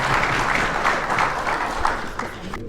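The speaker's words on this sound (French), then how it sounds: "On l'applaudit très fort, elle et tout son" An audience applauds at a mentorship programme's closing award ceremony at the Radisson Blu, a warm, steady clapping of a mid-sized crowd lasting a few seconds.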